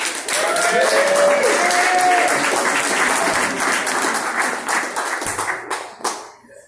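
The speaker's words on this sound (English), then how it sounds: "give a round of applause to our CEO, Mr. Danny Pacheco" An audience claps for a company CEO being called up at a café event, loud, dense applause close by with crisp individual claps and some vocal cheering mixed in, tapering off in the final second.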